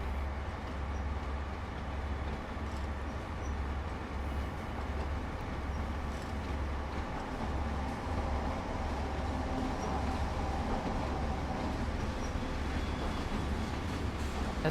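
A Class 185 train in Train Sim World 2 rumbles past at a moderate distance, a low, steady rolling drone with faint rail clatter.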